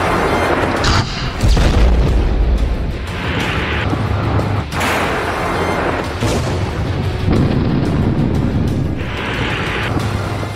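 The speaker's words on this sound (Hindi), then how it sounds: "यूक्रेन के चप्पे चप्पे पर रूस की मिसाइलें बरस रही हैं।" Heavy booming blasts from missiles striking during the Russia–Ukraine war roll in repeatedly, loud and rumbling, with several big hits spread across a dense low roar and no voices.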